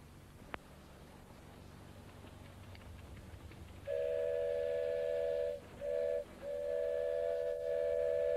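A miniature 10¼ gauge steam railway train sounds a long steady whistle in several blasts, the first pair separated by short gaps, after a quieter rumbling stretch, with no talk.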